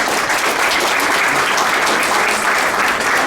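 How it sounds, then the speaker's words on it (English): Steady round of applause from an audience at an evening gathering at the Citrus Club, dense and even-level throughout without breaks or talk. "Give him one round of applause."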